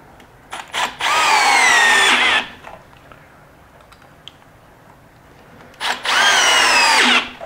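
Power drill driving pocket hole screws into wood in two loud, close bursts of whining motor that climbs and strains, separated by a few quiet seconds of faint handling noise.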